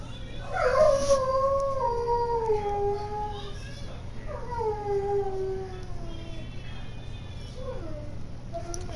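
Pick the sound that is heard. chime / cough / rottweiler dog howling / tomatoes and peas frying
rottweiler dog howling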